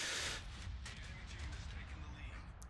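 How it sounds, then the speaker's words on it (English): A naval artillery salvo from the battleship Texas in World of Warships opens with a loud, broad blast, then settles into a rumbling low roar with scattered distant booms. A voice talks over it throughout. "Texas is now firing a salvo into Tankmaster"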